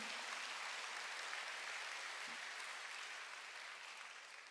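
Applause from a congregation during a church service, a steady even wash of clapping sustained throughout at moderate level with no talk over it.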